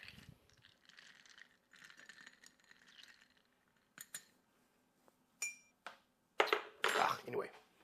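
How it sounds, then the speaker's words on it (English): A green tea highball with club soda being stirred in a glass. Quiet fizz and faint tinkling come first, then a few sharp clinks of the spoon against the glass near the end. A voice talks softly over the early part. "I don't think I can stir this that much"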